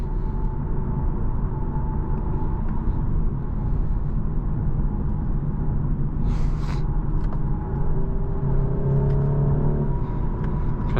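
A 2025 BMW 430i xDrive accelerating on the road, heard from inside the cabin as a steady engine rumble and road drone with a rising engine tone near the end, no speech.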